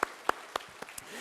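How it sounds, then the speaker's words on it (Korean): A few scattered claps from a church congregation during a Sunday sermon, five sharp isolated hits spaced about a quarter second apart, fairly faint. "우리 박수로 한번 격려하겠습니다"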